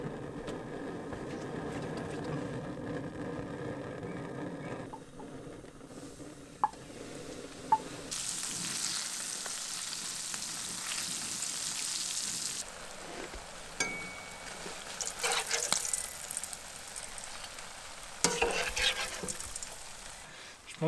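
Small fried fish, minnows and gudgeons, cooking in oil, a soft steady sizzle that grows brighter and louder midway, with occasional clinks and stirring noises.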